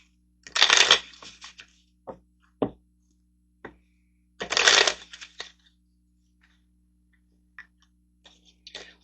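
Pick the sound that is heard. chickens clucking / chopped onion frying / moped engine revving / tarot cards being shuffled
tarot cards being shuffled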